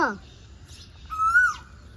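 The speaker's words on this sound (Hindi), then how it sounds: "कोयल?" An Asian koel gives a short rising whistled call, fairly clear over faint background noise, with a brief chirp just before it.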